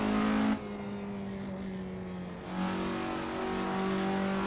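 A 1969 Isuzu Bellett GTR engine in Assetto Corsa revs with a steady mid-pitched drone that drops briefly and then climbs again as the car accelerates, heard alone and fairly close.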